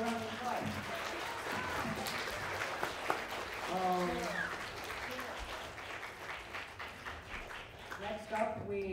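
A middle school talent show audience applauds, giving a scattered round of clapping that runs under a presenter's voice on a microphone.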